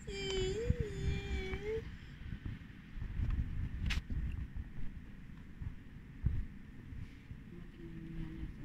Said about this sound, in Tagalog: Ay, pusa pala.